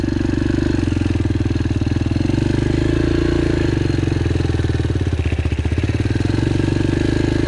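A Yamaha TTR 125L dirt bike engine drones steadily and close while riding on a track, with a slight rise in revs as the rear tyre finds traction.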